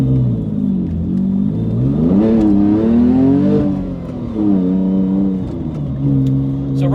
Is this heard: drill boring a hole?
no